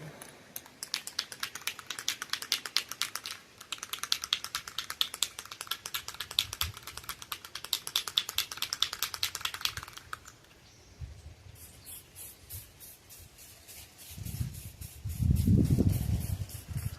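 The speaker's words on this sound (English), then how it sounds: "now we're going to put some paint on it here. This is Rust-Oleum Ultra Cover wood, metal, and plastic paint." A can of Rust-Oleum Ultra Cover wood, metal and plastic paint is sprayed in a rapid run of short hissing bursts, followed by quieter rattling and a few low thumps.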